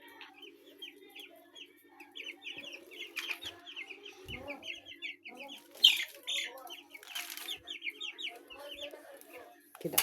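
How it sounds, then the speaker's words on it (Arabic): Nine-day-old chicks in a coop keep up a dense, steady chorus of high peeping chirps with soft clucks, heard close, with a couple of brief handling bumps. "كتاكيت النهارده ما شاء الله"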